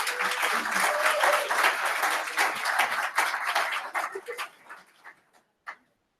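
Audience applause at an employee recognition breakfast for 15-year honorees, steady clapping from a room of people that thins out and trails off into a few last claps.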